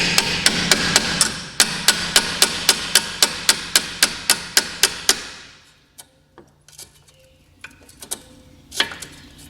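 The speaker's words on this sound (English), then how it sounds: "I'm going to take my box end wrench, put her on there, and I'm going to whack it." A box end wrench is struck repeatedly against a brake line fitting on a 1981 Chevy El Camino, about twenty sharp metallic hammer hits in quick even rhythm, close and loud, followed by a few softer scattered taps.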